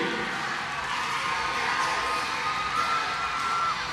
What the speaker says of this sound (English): And this crowd and the bench explodes.